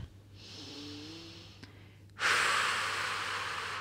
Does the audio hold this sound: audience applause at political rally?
no